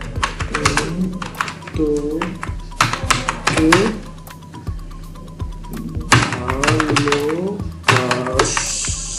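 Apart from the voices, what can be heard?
typing on a computer keyboard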